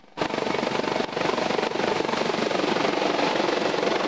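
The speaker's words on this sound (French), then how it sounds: "Un hélicoptère Panthère est en approche." Panther helicopter approaching, its dense, continuous rotor roar starting abruptly and holding loud and steady throughout, with a faint high whine above it.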